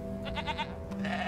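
Sheep bleating in the video game Divinity: Original Sin 2, a few wavering bleats close up over steady game background sound, with no talking.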